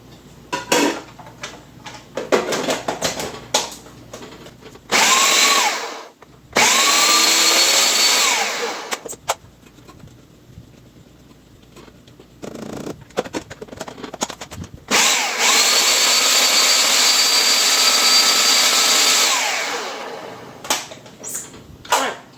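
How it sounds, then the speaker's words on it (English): A food processor blitzes purple onion and shallot for mushroom burger patties, running in several loud whirring bursts of a few seconds each, split by quieter pauses with light clatter. "we're going to add all of this to our food processor and blitz it up pretty good"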